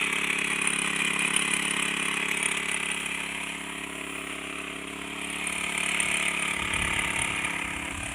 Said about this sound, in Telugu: ఇప్పుడు బాగా మొక్క అంతా కూడా బాగా తడిచేటట్టు స్ప్రే చేసుకోవాలి